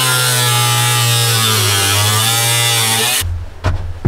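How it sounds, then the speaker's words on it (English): A cutoff wheel cuts into the sheet-metal body of a 2022 Ford Transit van with a loud, steady, high-pitched buzzing whine held for about three seconds before it winds down and stops, leaving a few faint clunks. "Now I'm gonna see if I can use the cutoff wheel and cut off a part of this"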